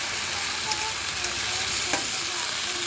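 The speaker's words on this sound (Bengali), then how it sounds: "এবারে ভালো করে কষানো হয়ে গেলে এবারে মটরশুঁটিগুলো দিয়ে দেবো।" Raw green peas sizzle in a spiced masala for ghugni, a dense, steady frying hiss with faint clinks of stirring, fairly loud and without voices.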